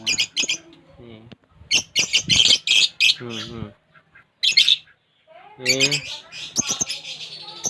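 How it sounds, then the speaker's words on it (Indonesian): Budgerigars chirp and squawk in bursts, bright and close, in an aviary alongside other pet birds, with a voice talking over them now and then. "itu yang kuat suaranya yang di sana, suaranya cantik-cantik. Ini burung parkit namanya"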